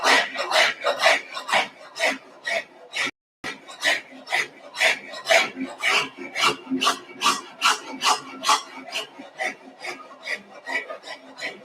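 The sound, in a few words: rasp filing wood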